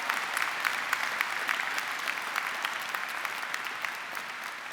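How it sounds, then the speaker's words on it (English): Graduates and guests applauding at a Central Saint Martins graduation ceremony, a broad sustained wash of many hands clapping, fairly distant and steady from start to finish. "Give yourselves a round of applause."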